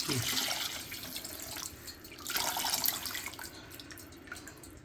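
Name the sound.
pouring tamarind water into vada curry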